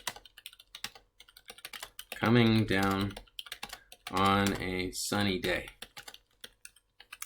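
Someone types on a computer keyboard, with quick, light clicking taps up close. The tapping carries on quietly around a stretch where a person speaks.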